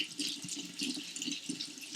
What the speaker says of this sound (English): Now what I do is I rinse it off with some water